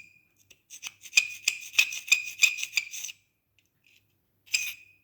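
A hand tool scrapes old grout out of tile joints in a run of sharp, gritty rasping strokes that speed up, then stop, with one more short scrape after a pause, all close and without talk.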